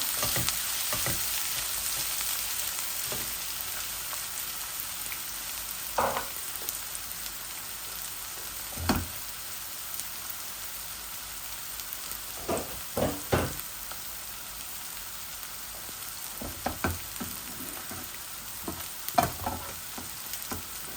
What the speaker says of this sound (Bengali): এভাবে ভাজা ভাজা করি।